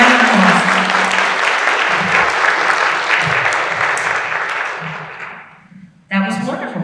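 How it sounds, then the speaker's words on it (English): Sustained audience applause at a Lee County Schools spelling bee, a dense wash of clapping that fades toward the end, then a brief burst of voices and sound returns. "Give them all a round of applause."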